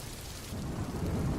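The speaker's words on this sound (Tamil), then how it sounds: "என்ன இன்னைக்கு திடீர்னு மழை பெய்யுது?" Sudden rain pours down in a steady, broadband hiss that grows heavier over a second and a half, with no voices.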